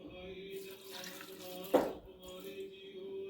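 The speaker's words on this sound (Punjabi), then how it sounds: "ਇਹਦੇ ਵਿੱਚ ਆਪਾਂ ਹੁਣ ਅੱਧਾ ਕੱਪ ਜਿਹੜਾ ਆ ਉਹ ਪਾਣੀ ਦਾ ਪਾਵਾਂਗੇ" Water poured into a pressure cooker holding carrots, a brief splashing gush near the middle over quiet trickling and a faint background hum.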